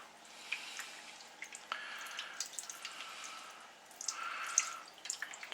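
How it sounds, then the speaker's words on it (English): Fresh orange juice pours from a carton over raw BBQ ribs in a home kitchen, a thin, trickling, dripping liquid sound in irregular splashes, close and fairly quiet, with no talking. "Just a carton of fresh orange, and what I tend to do is just pour it over the top of it until you kind of get it covered slightly."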